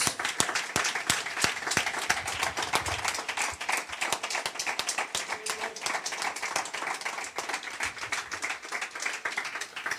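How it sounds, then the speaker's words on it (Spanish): A Spanish-speaking church congregation gives loud, sustained applause during a sermon, dense rapid clapping filling the room with some sharper individual claps, steady throughout. "Dale un fuerte aplauso a nuestro Dios."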